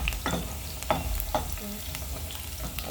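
Onions sizzle steadily in a pan while being stirred, with a few distinct scraping strokes over a constant low frying hiss.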